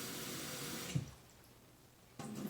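Tap water running over sprouting chickpeas being rinsed, a soft steady splash that cuts off briefly, then starts again, faint and close.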